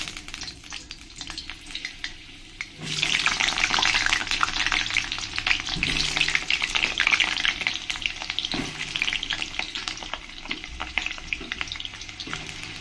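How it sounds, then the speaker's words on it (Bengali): Chunks of potato frying in hot oil for mutton kosha, a loud, dense sizzle that swells up after a quieter start, with repeated stirring scrapes and bubbling spatter close by and no voices. "বেশ লাল লাল করে আলুগুলোকে ভেজে নেব।"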